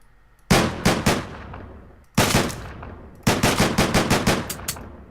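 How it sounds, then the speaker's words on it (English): Loud shotgun blasts from the video game Deadbolt ring out in three bursts, first a few spaced shots, then a single one, then a rapid run of repeated booms, each with a short echoing tail. "Shotgun into the face."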